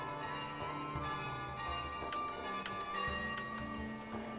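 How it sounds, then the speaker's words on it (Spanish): Church and monastery bells in the medieval village-building game Foundation ring out at the start of a month, with repeated clanging strikes and sustained tones over soft background game ambience. "Yo tengo puestas las campanas que suenen siempre al comienzo del mes."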